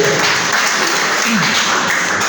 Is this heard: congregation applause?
yes